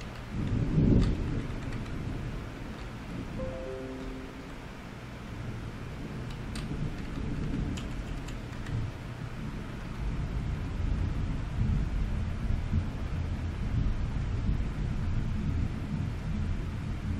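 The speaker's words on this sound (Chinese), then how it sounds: "哇，一直打雷" Thunder rolls on continuously as a low, steady rumble, with rain hissing throughout and one sharper crack near the start, no voices present.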